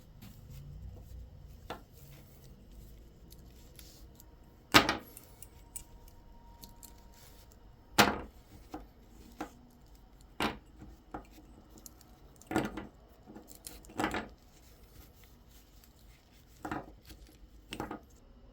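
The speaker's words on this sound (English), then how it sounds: "let's unwrap this thing." Crinkly plastic packaging being torn and pulled open around a fishing lure, with sharp, scattered crackles and snaps at irregular intervals over a quiet background, some louder than others.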